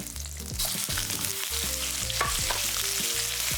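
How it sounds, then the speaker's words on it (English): Beef mince with lemongrass sizzles steadily in a hot pan, a constant crackling hiss with soft music playing in the background. "Add in that lemongrass to start sizzling away."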